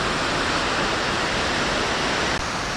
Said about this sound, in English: Chitrakote Waterfalls.